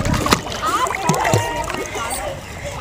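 A dog plunges into water at a beach and swims after a toy, with steady nearby splashing and sloshing throughout the short stretch while people talk over it.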